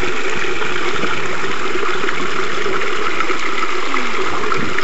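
A small creek where people fish flows in a steady, continuous wash of running water, loud and close, with no voices over it.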